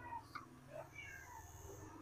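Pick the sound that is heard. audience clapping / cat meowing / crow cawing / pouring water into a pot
cat meowing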